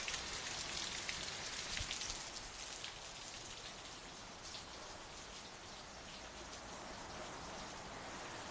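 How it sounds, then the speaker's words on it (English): Steady rain falls outdoors during a tornado watch, a soft, even patter of drops on surfaces that stays faint but continuous throughout, with possible faint birds or insects in the background. "That's the rain right now, guys."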